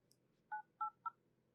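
Three short telephone dialing tones beep in quick succession, crisp and clear against near silence, after a faint high blip.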